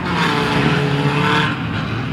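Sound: banger race car still running with back wheel spinning

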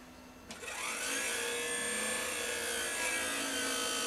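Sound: noisy graphics card fan in PowerMac G4 at startup

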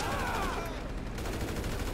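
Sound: gunshot in video game GTA 5

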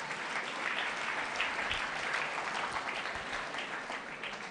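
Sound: audience applause

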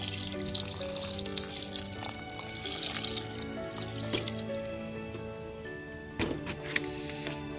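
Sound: liquid being poured into a pot

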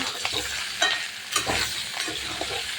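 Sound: stirring fried potatoes and fish in a pan

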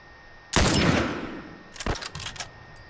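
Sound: gunfire in the video game The Last of Us

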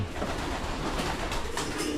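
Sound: pigeons cooing in a breeding section

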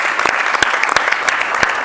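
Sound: applause

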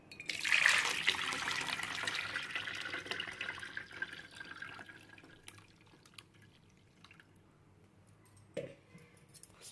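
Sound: pani puri water being filtered

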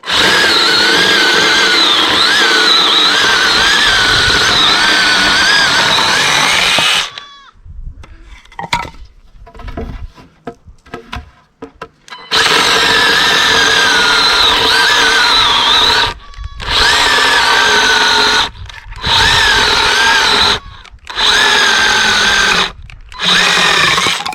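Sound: mini saw cutting firewood

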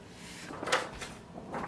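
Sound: opening Epson XP-5205 scanner lid

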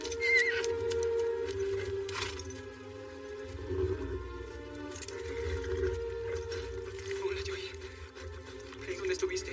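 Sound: horse neighing

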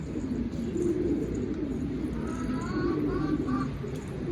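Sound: pigeons cooing

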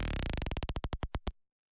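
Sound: warped drums through OTT multiband compression in Ableton

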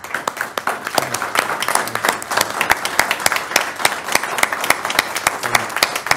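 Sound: round of applause for Rick Fender

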